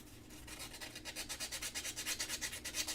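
A small jewelry piece is sanded with a sanding sponge in quick, regular back-and-forth strokes, a soft close rasping rhythm with no voices.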